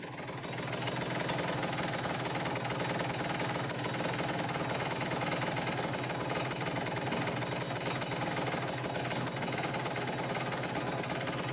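A small carbureted engine idles while its carburetor mixture is being adjusted, producing a continuous, even, rattling drone that holds steady throughout, close and unbroken, with no talking.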